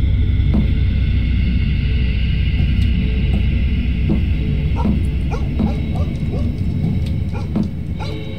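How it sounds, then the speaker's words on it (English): Dog barking in the horror video game Fears to Fathom, a run of short repeated barks and yips over a loud constant low rumble, no talking. "Why there a dog barking?"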